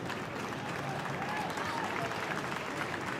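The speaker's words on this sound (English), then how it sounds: "Crowd appreciated. They know when they see a good player." A stadium crowd applauds a player during an A-League football match between Newcastle Jets and Melbourne City, a sustained, even roar of clapping filling the whole moment.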